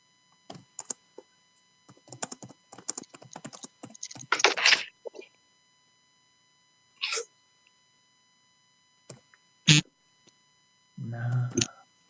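Scattered keyboard typing during an online budget committee meeting, irregular bursts of quick clicks with pauses, fairly close and quiet, mixed with a few louder isolated noises and brief sounds of a voice.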